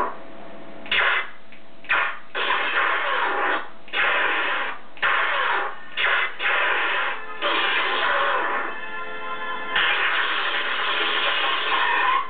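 Lightsaber swing effects from an Igniter sound font, a series of loud whooshing bursts in uneven rhythm, some short and some sustained, close and alone with almost no underlying hum.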